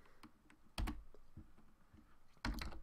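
Typing on a computer keyboard while editing a bot config file, quiet scattered keystrokes broken by a few louder, sharper clusters of key presses, with no voices.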